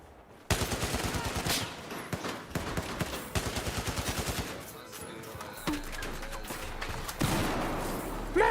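Rapid automatic gunfire from a Roblox Phantom Forces match rattles in repeated loud bursts with sharp single shots between them, mixed over music and game noise.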